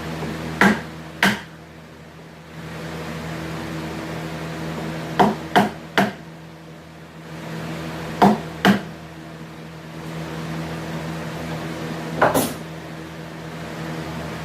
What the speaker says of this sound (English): Trusty old hammer.